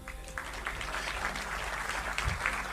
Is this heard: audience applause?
yes